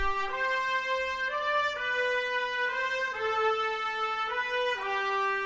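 8Dio New Century Brass legato trumpets heard through close microphones play a bright, connected melodic line of sustained notes that slide smoothly from pitch to pitch, loud and present with no voices.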